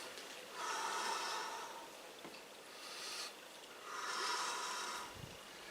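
Slow, drawn-out breaths during a Systema exercise rise and fall in three long, soft swells, quiet and close with no talking.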